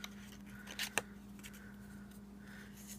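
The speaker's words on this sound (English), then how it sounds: "this piece I'm going to cut loose from here and then trim it in closer" Scissors snip paper while trimming close around a cut-out word shape, giving a couple of short, quiet crisp snips near the start and then faint rustling, with no speech.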